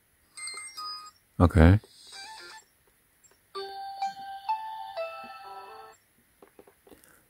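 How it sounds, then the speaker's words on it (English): Ringtone preview on an AT&T Radiant Max prepaid smartphone: short bright melodic tone sequences in two bursts, separated by a brief spoken word and a close, loud handling noise. "Right here is the phone ringing tone."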